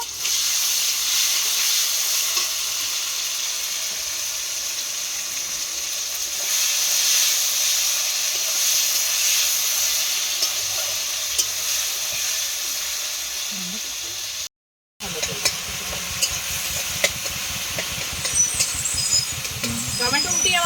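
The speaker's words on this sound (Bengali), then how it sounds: "মতো লবণ দিয়ে টমেটোটাকে ভালো করে ভেজে নেব" Soft steady sizzle of tomatoes frying in a pan, a continuous hiss with light crackle, briefly cut off before resuming.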